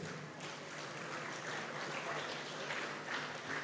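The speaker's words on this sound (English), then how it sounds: "Ladies and gentlemen, a round of applause, please, for your 93 kilo class podium." Faint, distant applause from a crowd at a powerlifting competition honoring the 93 kg class podium, a steady wash of clapping throughout.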